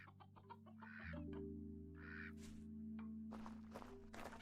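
Wild chickens in the survival video game Vintage Story cluck in short, repeated bursts over a steady low game ambience, with no one talking.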